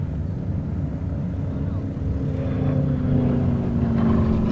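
A Curtiss H-75 warbird making its final display pass at the Duxford Battle of Britain air show, a sustained propeller-engine drone that swells louder toward the end, heard at a distance over open-air ambience.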